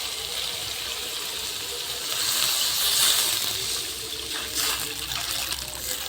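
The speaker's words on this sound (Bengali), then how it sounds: "এখন আমি জল দিয়ে দেব।" Water is poured into a pan of fried spice paste for a fish curry, a steady close trickle that swells briefly into a fuller gush midway before settling again.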